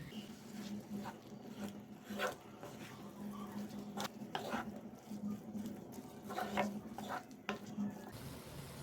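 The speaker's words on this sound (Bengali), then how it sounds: "2 মিনিট পর আমি শাকগুলো একটু নেড়ে চেড়ে দিব যাতে তলায় লেগে পুড়ে না যায়।" A utensil stirs and scrapes red spinach fried with dried shrimp in a pan over a low flame, making soft, intermittent rubbing and scraping strokes over a faint background hum.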